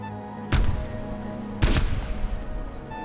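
Two loud gunshot-like blasts about a second apart while shooting at targets in the roguelike Morse, each with a sharp crack and booming tail over a steady tonal hum, no talking.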